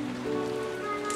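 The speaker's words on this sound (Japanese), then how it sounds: "雨よ、止むな。" Steady rain falls in a Japanese sound drama, a soft continuous hiss of drops on a surface that runs unbroken and fairly close throughout, with a faint tonal hum beneath it.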